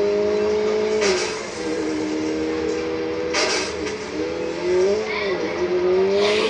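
Racing car engine from a video game played on a tablet hums steadily with shifting tonal whines as it revs and changes gear, accompanied by periodic whooshing bursts, while a person talks over it.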